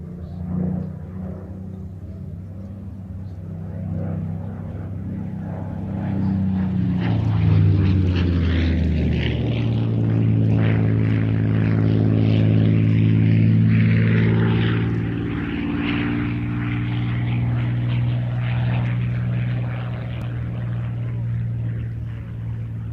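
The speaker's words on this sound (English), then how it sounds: "this unique aircraft, the Spitfire Mark 9, the Russian Spitfire from the Hangar 11 collection" A Spitfire Mark 9 propeller fighter approaches and passes overhead at an airshow, its engine drone swelling from faint to loud with falling tones as it goes by, then settling into a steady, more distant hum.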